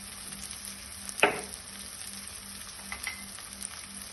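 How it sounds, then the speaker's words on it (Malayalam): Chilli, turmeric, coriander and garam masala powders sautéing in a pan, a soft low sizzle broken by one sharp utensil tap and a few light stirring scrapes. "കുറച്ച് ഗരം മസാല പൊടിക്കാനിട്ട് കൊടുത്തായിട്ട് എന്നിട്ട് നന്നായിട്ട് വഴറ്റും"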